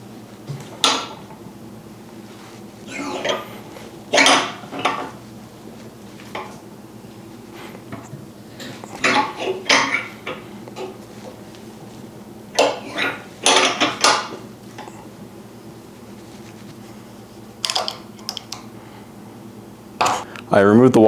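A screwdriver pries and pops the welded link of a front door chain lock, producing scattered sharp metallic clicks and clanks in irregular bursts close by, with someone talking between them.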